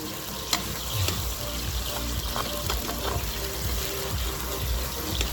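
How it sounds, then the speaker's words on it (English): Sugar and water bubble and sizzle steadily in a hot pot as the caramel darkens for Jamaican brown stew chicken, with a few sharp clinks of a utensil against the pot; no voice. "So just add a little water with your sugar and burn it until you get the color."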